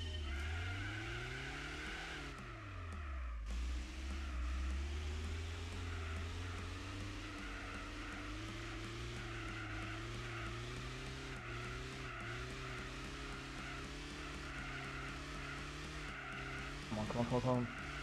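A race car engine in Gran Turismo 4 revs and climbs through the gears with rising and falling tones and a brief tire squeal, held near the limiter at a steady drone.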